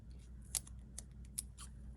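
Tiny craft scissors make a few quiet, crisp snips, spaced irregularly and heard up close in a hushed room during flag and banner making.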